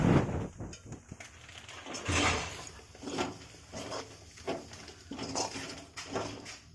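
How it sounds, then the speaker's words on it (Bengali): A semolina mixture for sweet-potato pithe puli is stirred in a pot, giving irregular scraping and knocking strokes of the spoon against the metal, close and moderately loud, with uneven bursts and no talk. "খুব ভালোভাবে নাড়তে হবে কিন্তু, নইলে দলা পাকিয়ে যাবে।"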